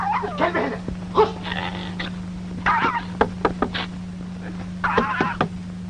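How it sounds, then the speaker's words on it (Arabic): A dog making several short yips, whimpers and barks in scattered bursts over a steady low hum, with brief indoor scuffs between calls. "الكلب هنا. خش."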